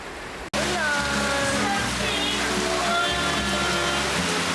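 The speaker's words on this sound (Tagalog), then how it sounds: "mas malakas pa nga yung ulan kaysa sa boses ni Mama" Steady heavy rain roars as a dense, continuous wash of noise, with faint tonal sounds threaded through and a brief silence at the very start.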